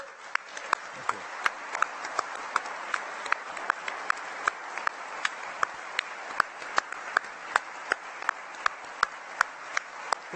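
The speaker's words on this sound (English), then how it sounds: "I'd like to applaud everyone here who is a part of it" An audience applauds at an evening event at The Computer Museum, a dense, steady patter of many hands that holds at an even level, with a few sharper individual claps standing out throughout.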